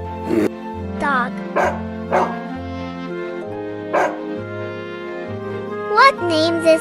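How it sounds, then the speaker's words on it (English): A dog barks several times in short yips and whimpering calls over steady background music, each bark fairly close and clear. "Dog."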